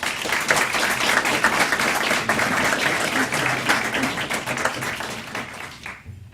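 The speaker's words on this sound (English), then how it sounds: "So let's give them a big round of applause." An audience applauds award-winning students at a school board meeting, a full, sustained round of clapping that holds steady before cutting off abruptly near the end.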